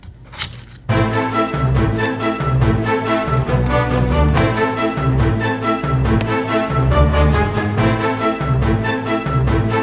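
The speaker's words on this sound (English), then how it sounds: "I've cut up a whole head of garlic and a half of a medium-sized onion" A knife chops a whole head of garlic and half a medium onion on a board for broccoli cheese soup, fast rhythmic taps, close and continuous after a brief pause at the start.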